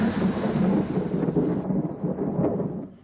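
A thunderstorm in the Captain Scarlet and the Mysterons: Expo 2068 game, with a loud, rolling rumble of thunder over steady rain that fades out at the end, no voices.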